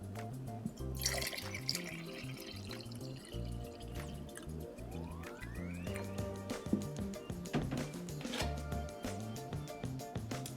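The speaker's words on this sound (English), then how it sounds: "put distilled water inside of here." Distilled water pours into a homemade Frozen 2 snow globe jar with a steady liquid trickle and drips, set among background music and clutter of other sounds.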